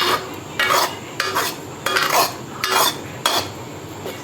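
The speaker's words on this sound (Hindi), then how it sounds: "देखिए और इलायची को अच्छे से मिक्स करें और इसे और अभी बनने दें" Spoon stirring cardamom powder into thick kalakand mixture of chhena and milk in a pan, a series of roughly six scraping strokes in a steady rhythm, close and fairly loud with no talk.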